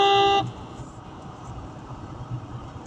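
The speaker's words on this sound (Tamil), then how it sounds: "ஒரு ஹாரன் சார்." A car horn gives one short, loud, tonal honk, after which the low rumble of a car interior and road noise continues.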